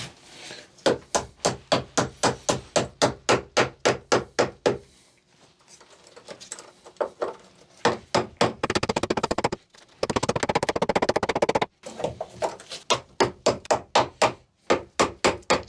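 Sharp, loud hammer-like blows on universal battery terminal clamps, struck in fast regular bursts of about a dozen hits, separated by short pauses and a stretch of scraping, all close up.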